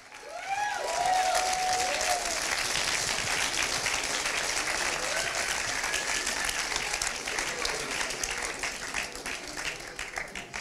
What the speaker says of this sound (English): You can clap louder than that.